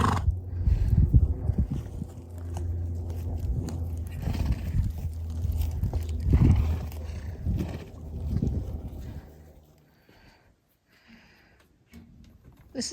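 Horses arriving for feed time give snorts, whinnies and rustling movement at fairly close range, with several louder bursts before the scene quiets toward the end.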